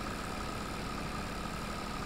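A tractor engine in Farming Simulator 22 drones steadily at an even idle-like pitch, close and constant, with no voices over it.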